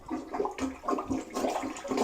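Water gurgling and draining down a toilet bowl as a plunger works it back and forth, a steady near wash of sloshing with small surges, no talk.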